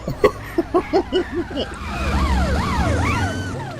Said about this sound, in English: I'm just listening to the impending police car